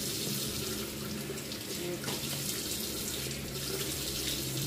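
Water runs steadily from a bathroom tap into a sink for face washing, a constant close hiss and splash with no pauses throughout.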